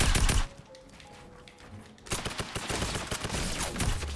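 Tactical assault rifle fire in the video game Fortnite, with a loud burst at the start, a brief lull, then a longer sustained volley of rapid close shots.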